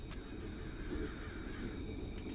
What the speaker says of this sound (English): Ooh, crows.